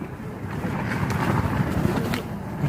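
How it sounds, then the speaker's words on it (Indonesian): Strong storm wind on Mount Sindoro batters and shakes a tent, a steady loud roaring rush with gusty buffeting close to the microphone, no voices. "Angin kencang menggoyang tenda kami seperti mau diajak bermain layang-layang oleh sang badai."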